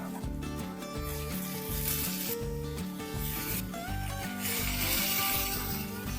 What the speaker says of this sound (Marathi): पावट्याचे मोड अशी भाजून घ्यायची तेलामध्ये चांगले।